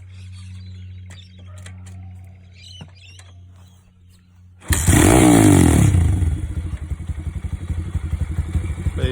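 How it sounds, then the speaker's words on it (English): A Thumpstar TSX 140cc dirt bike is quiet for a few seconds with faint clicks, then its engine fires up abruptly. It keeps running close and loud with a rough, fluttering idle. "Let's get the bike started and see what it sounds like."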